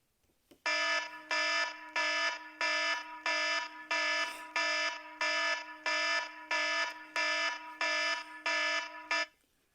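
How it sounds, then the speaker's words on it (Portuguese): An electronic alarm blares in a steady pulsing pattern, about a dozen loud tones in a row, then stops abruptly. "mas eu estou ouvindo alarme"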